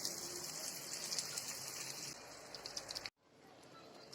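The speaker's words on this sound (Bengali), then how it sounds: "এখন সিদ্ধ করা ডালটা দিয়ে দেব" Boiled dal poured into a pan for restaurant-style dal tadka, making a steady, fairly soft gushing pour for about three seconds before stopping abruptly.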